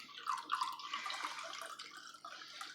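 Wine poured into a glass gives a soft, continuous splashing trickle up close and fairly quiet, with no voices over it.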